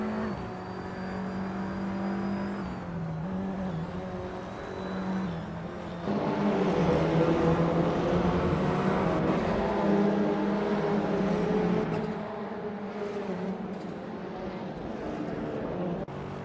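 Race car engines drone steadily in a racing video game, with a 2013 Peugeot 208R2 in a pack of bot drivers; continuous mid-level engine roar with shifting tones, mixed with a voice talking over it throughout.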